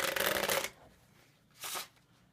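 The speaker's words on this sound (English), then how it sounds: "I'm just going to give it a riffle shuffle." Crisp fluttering riffle shuffle of a Bicycle Stargazer deck of playing cards, followed after a short pause by a briefer second riffle; close and clear with no talking.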